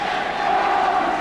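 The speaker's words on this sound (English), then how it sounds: "The Bristol City fans beginning to shout and cheer a little louder" Bristol City football crowd shouting and cheering in the First Division stands, a dense, continuous roar of many voices heard from a distance and steady throughout.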